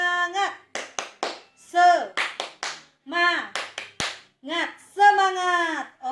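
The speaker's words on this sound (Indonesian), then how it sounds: "Oke, tepuk semangat." A primary school class on its feet doing the rhythmic tepuk semangat spirit clap, bursts of patterned claps alternating with children's chanted voices, close and lively.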